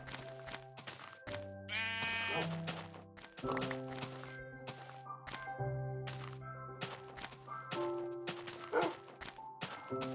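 Sheep in Minecraft bleat repeatedly among other farm animals, short wavering cries coming at uneven intervals over a bed of music-like tones, fairly faint overall with no talk.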